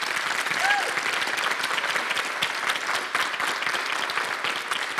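Audience at a 2018 Ohio gubernatorial debate in Marietta bursting into applause, a loud, crackling mass of many hands clapping continuously, with a faint voice briefly audible near the start.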